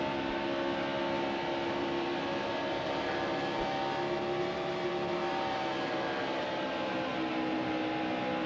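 A stock car's engine drones continuously in the NASCAR Heat Evolution video game, a steady high whining roar with layered engine tones from nearby cars, no speech.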